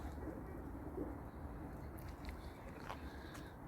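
Soft, low cooing from pigeons blends into a busy background murmur, with a few faint higher chirps scattered through.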